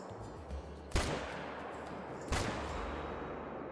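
Two loud rifle shots fired at deer in the Call of the Wild hunting game, about a second and a half apart, each a sharp crack followed by a rolling echo over a steady outdoor ambience.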